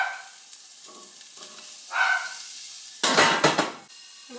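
Sausages and bacon land in a hot pan and start frying. Pan and utensil clatter comes first, then a loud burst of sizzling near the end.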